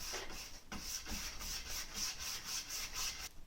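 A brush strokes watery whitewash paint over sanded wood in a steady run of soft, close rubbing swishes, with no voices.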